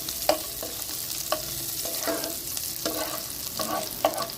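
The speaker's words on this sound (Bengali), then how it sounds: "গলানো ঘির মধ্যে দিয়ে দিচ্ছি রসুন কুচি" Chopped garlic frying in melted ghee for Punjabi-style palak paneer, a steady sizzle broken by repeated scrapes and clinks of a spatula stirring in the pan, close and moderately loud.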